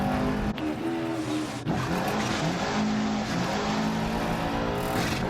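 A rally car in Dirt Rally 2.0 on the Monte Carlo stage drives hard, its engine droning loud and steady while the tires skid and squeal across the surface, with a couple of abrupt shifts in pitch.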